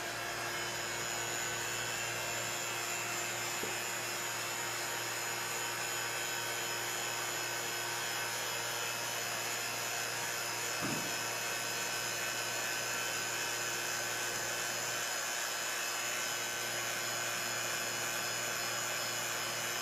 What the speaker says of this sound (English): Then we're gonna cover it with the vacuum chamber and then turn it on and see what happens.